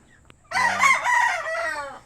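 A gamefowl rooster, likely a breeding stag or broodcock, gives one loud, close cock-a-doodle-doo crow of about a second and a half with no other sound.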